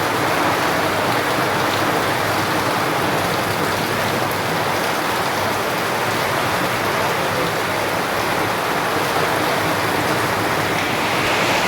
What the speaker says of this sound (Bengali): প্রচণ্ড করে বৃষ্টি হচ্ছে তার সঙ্গে হাওয়া হচ্ছে মানে ঝড় হচ্ছে